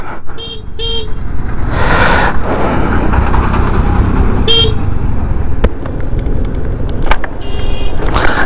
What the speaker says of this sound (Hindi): ये जो अभी ट्रैफिक देख रहे हो, ये है बरहमपुर का ट्रैफिक